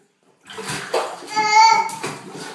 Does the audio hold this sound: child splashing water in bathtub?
yes